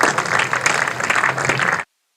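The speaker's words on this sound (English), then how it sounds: "Round of applause echoes out here at North Marine Road" Crowd applause at North Marine Road cricket ground in Scarborough during a Yorkshire v Durham one-day match, a steady ripple of clapping for the team's 100 that cuts off abruptly.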